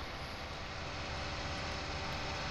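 An airplane in a farming survival game drones steadily with a continuous engine roar, loud and close, holding an even level without variation throughout.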